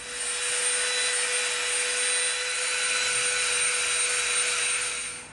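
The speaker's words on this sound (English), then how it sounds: "we're going to Dremel the edges of this to make them softer" A Dremel rotary tool sands the edges of EVA foam with a loud, continuous high-pitched whine, close up and steady for several seconds with no voices.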